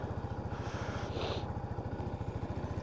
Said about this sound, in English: we're just going to leave that there for a couple of minutes just to make sure it idles correctly